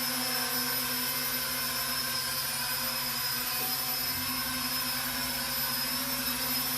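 A Syma X9 Flycar drone-car holds a low hover with its rotor motors running, giving a steady, loud, continuous electric whine with a constant buzzing pitch for the whole stretch and no talk.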